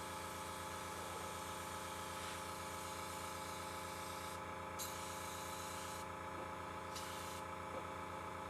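An airbrush sprays paint onto a Doom Guy model in a steady, continuous hiss over a low motor hum, with a few short breaks in the spray.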